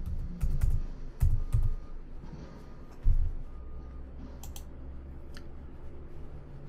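Typing on a computer keyboard while programming a Siemens S7 PLC: light clicking keystrokes in short bursts, close and fairly quiet, with low background hum.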